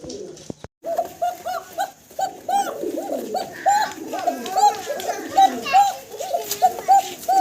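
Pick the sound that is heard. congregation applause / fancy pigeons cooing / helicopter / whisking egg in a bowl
fancy pigeons cooing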